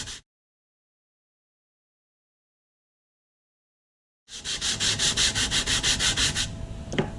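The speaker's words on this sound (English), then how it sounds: "think of sanding more of the tip off than the root off" Rhythmic back-and-forth sanding strokes on a profiled composite fin, close and fairly loud, following a brief scrape and a long stretch of silence.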